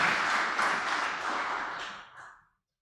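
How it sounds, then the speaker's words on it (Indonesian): A church congregation applauds together at a Sunday evening service in a Toraja church, a dense, steady wash of many hands clapping at close range that fades out over about two seconds. "Mari kita beri tepuk tangan untuk Tuhan hari ini"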